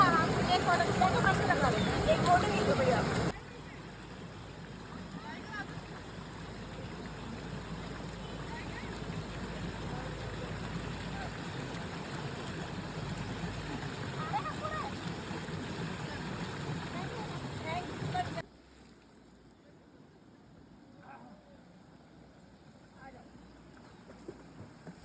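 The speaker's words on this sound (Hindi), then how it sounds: "बस पीछे से झरना बहता जा रहा है" A waterfall in Rishikesh pours in a steady broadband rush that stays loud, then drops to a quieter, more distant wash partway through, with scattered voices mixed in.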